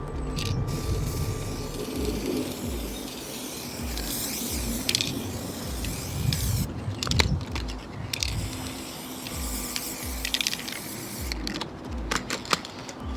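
Spray paint goes on as a second coat over a DIY metal microphone, with irregular hissing bursts and rattling, clicking handling noises close by and no talking.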